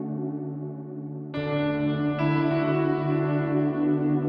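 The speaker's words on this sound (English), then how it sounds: "whereas if I was using a reverb," Sustained piano notes swell with a wash of reverb, a second chord entering and a third layering on, blending into a lingering, echoing tail.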